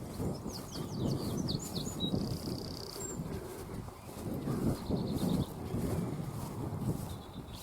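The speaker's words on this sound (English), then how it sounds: "Those are wee goldfinches" Small, high twittering calls of goldfinches, with a few chaffinches, in the trees by an old graveyard near a lough in County Down, scattered chirps heard at a moderate distance over steady low wind and outdoor rumble.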